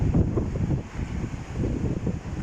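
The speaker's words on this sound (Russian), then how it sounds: "Ух, какие волны." Stormy Black Sea surf at Anapa churns under strong gusting wind, a rough continuous roar of crashing waves with heavy buffeting wind noise on the microphone, no voices.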